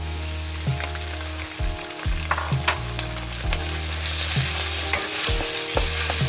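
Ground pork sizzles and crackles steadily in a hot pan for a Filipino giniling sauté with mushrooms and peas, with a loud continuous fry and repeated stirring scrapes throughout.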